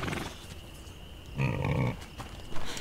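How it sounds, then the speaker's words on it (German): Pigs on a farm in the A Plague Tale video game let out a short, fairly loud grunting burst midway, with a brief second snort near the end over quiet ambience. "Nicht mit den Schweinen spielen."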